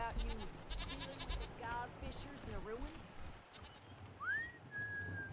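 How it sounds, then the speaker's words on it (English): Sheep bleat faintly within the ambient soundscape of Wasteland 3, mixed with whistling tones and soft game effects while a person talks over them. "Also, if I'm hearing sheep, where are these sheep?"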